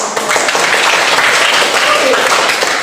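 A group claps together during a performance evaluation session, a dense, steady patter of applause lasting the whole few seconds at close, fairly loud level.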